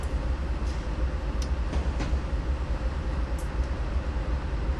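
Train creeping slowly toward waiting carriages in Train Simulator 2012, a low steady rumble of the locomotive with a few faint clicks and squeaks over it, no voices.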